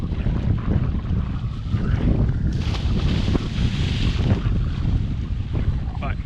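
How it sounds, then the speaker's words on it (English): A motorboat engine runs steadily on open water, its low continuous drone mixed with heavy wind buffeting the microphone and the wash of water around the hull. "Engine's running."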